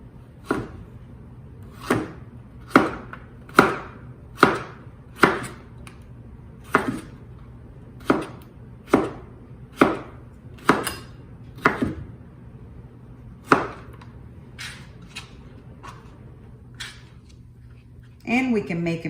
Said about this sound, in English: Let's do the cucumber. I like long slices